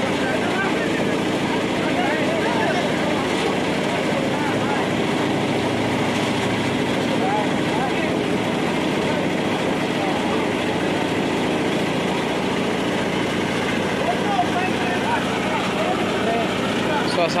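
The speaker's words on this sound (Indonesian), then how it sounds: "Mesin sudah hidup." A concrete casting machine engine runs steadily at a building site during the pouring of a second-floor slab at an Islamic boarding school in Lombok, a continuous loud mechanical drone with dense broadband noise throughout.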